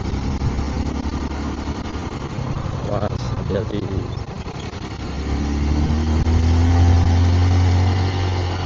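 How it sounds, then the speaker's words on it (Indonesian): Engine of a manual-clutch motorcycle running on an old stony track toward Lembah Banyu Biru valley in Semarang, a steady mid-pitched hum that swells louder and lower near the end, with people talking over it. "membiasakan lagi pakai motor kopling ini."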